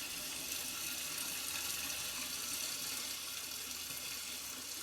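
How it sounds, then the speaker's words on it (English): Fresh tank water pours into a brewing tank while making wort for beer, a steady, soft rushing fill that continues evenly throughout. "we just add that water in, fresh tank water"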